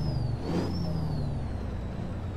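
Truck engine from a trucking game in a live stream, a steady loud low rumble with a brief air-brake-like hiss and a faint whining tone over it, continuous throughout.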